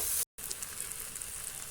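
Food frying in a pan, a steady soft sizzle heard close by, cut by a brief dropout near the start, with no talking.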